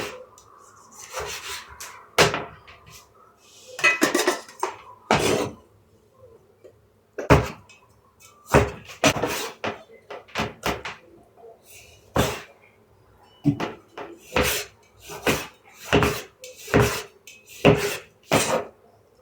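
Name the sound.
knife cutting tomatoes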